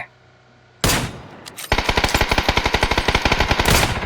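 PUBG video game gunfire: a loud burst rings out, then a rapid automatic weapon fires a steady stream of sharp, evenly spaced shots for over two seconds, close and dominant.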